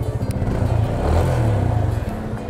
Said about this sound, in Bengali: বাইকের সাউন্ড